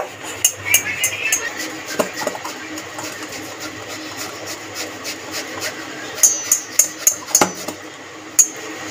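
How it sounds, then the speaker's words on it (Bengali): Boiled potatoes are rubbed across a metal kitchen grater, with repeated rasping strokes and sharp clicks, close up. The strokes cluster early and again toward the end in quick rhythmic bursts. "আলুগুলো গেটারে একটুখানি ঘষে ঘষে নিয়ে আলুটাকে পুরো করে নেব"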